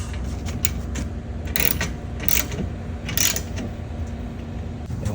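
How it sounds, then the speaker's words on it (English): A nut being tightened on a Ranger storefront glass door frame during assembly, with quick metallic ratcheting clicks in short bursts, close and fairly loud over a steady background hum. "we're going to tighten this up because once we put the bottom rail on, we're not going to have access to this nut"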